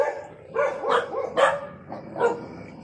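Dogs scuffling and barking at a Buddhist monastery near Pokhara: several sharp, close barks and yips in quick, uneven bursts, with whimpering growls between them and no talk.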